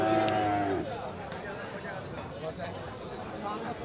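A bull or cow lows once, loud and close, at a busy cattle market where farm-ready bulls and cows are bought and sold, followed by steady crowd murmur and someone talking nearby.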